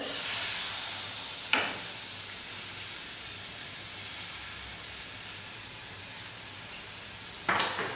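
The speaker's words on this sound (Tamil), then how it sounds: "இதெல்லாம் நல்லா வதங்கட்டும்" Tomatoes and spices sauté in a pan for a bitter gourd tamarind curry, a soft, steady sizzling hiss close by with two brief sharper bursts.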